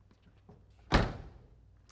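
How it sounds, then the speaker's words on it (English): A 1969 Dodge Dart Swinger car door swinging shut with one solid, close thunk as it latches, standing alone against a quiet background. "They open and close real nicely, latch real nicely."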